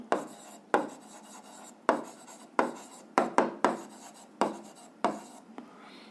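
Pen strokes scratch across paper close up in short, distinct bursts, each starting with a sharp tap, about ten strokes with brief pauses between them and no voices.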